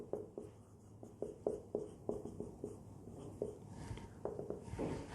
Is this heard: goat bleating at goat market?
no